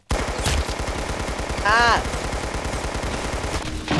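A Tommy gun fires in rapid, steady automatic bursts during a video game match, loud and close for several seconds, with a player's short cry partway through.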